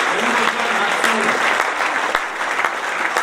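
A crowd applauds at a New Year's greetings ceremony with a dense, steady clatter of clapping that carries on throughout, fairly close and even in loudness.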